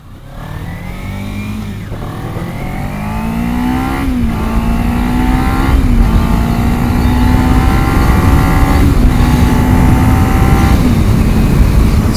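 Kawasaki Ninja 300 motorcycle accelerating up through its gears, the close, loud engine note climbing in pitch several times with brief dips at each shift, steady wind rush underneath.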